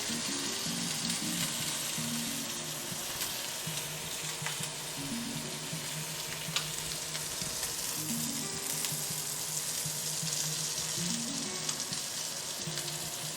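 Lamb searing in a hot pan sends up a steady, dense sizzle and crackle that runs unbroken for over ten seconds, close and moderately loud, with no talking.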